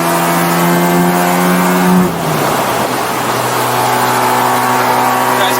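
A Mazda sports car climbs a hill at around 100, its engine holding a loud steady cruising drone with a brief shift in pitch midway before settling into an even hum.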